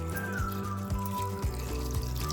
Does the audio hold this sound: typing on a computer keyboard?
no